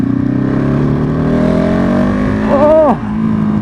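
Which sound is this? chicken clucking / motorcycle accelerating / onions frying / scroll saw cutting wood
motorcycle accelerating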